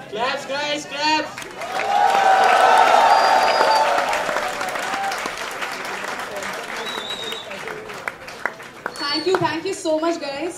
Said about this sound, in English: Claps guys, claps!